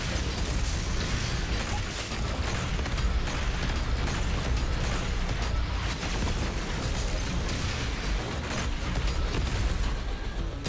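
An ice bomb thrown in the video game Doom Eternal, heard amid a dense, loud wash of combat noise with crackling bursts and mechanical clatter, no talk over it.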